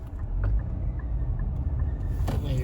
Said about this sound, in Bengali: প্রচুর গাড়ি আসতেছে এইখানে।